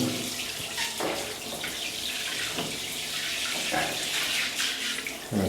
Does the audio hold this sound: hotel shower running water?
yes